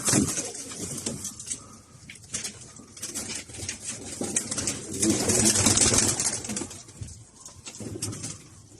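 Domestic flying pigeons coo and flutter amid steady outdoor bustle, with wings flapping and soft pattering throughout.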